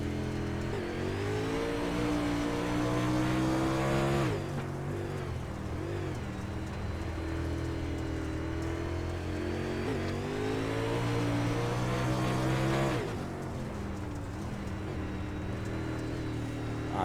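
Late model race car engine roaring loud and close from onboard at Eldora, sustained high revs with pitch rising and falling through the laps and two brief dips as the driver lifts, no voices.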